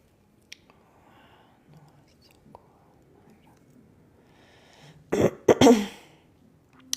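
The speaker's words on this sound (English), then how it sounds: "that just made me clear my throat" A short, throaty clearing burst near the end, following a stretch of quiet, soft breathy murmuring close to the microphone during a live healing session.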